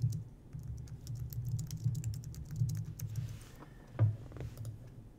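Quick, light keystrokes tap on a computer keyboard in a steady patter with a brief pause, close and quiet against a soft background hum.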